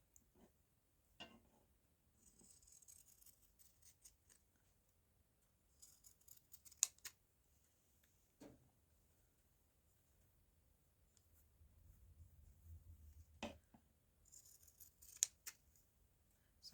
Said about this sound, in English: So it means a few extra cuts to get all the pinked edges sorted.